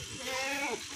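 A single short bleat from a pink-coated goat at a livestock sale, a wavering nasal cry rising and falling, close by over background murmur.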